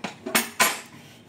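Dishes and utensils being washed: a few sharp metallic clinks and clatters of cutlery against pots, close and fairly loud, with no talking.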